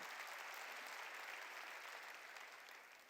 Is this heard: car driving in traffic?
no